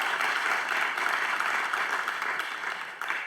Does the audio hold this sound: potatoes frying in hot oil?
no